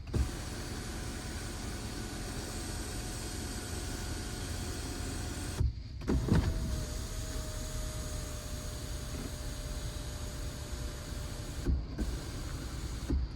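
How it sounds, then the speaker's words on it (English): Motor hum of the power moonroof opening on a 2023 Ford F-350 King Ranch pickup with a 7.3L V8, a steady close drone with a couple of brief clicks or stops partway through, no talking. "This also has a moonroof. Let's make sure that works"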